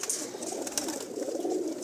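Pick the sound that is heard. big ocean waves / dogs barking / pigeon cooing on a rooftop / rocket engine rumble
pigeon cooing on a rooftop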